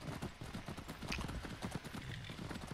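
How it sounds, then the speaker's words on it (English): Horse hooves clip-clopping in the video game Skyrim, quiet rhythmic trotting beats with faint background voices, fairly soft overall. "let's go ahead and stable our horses"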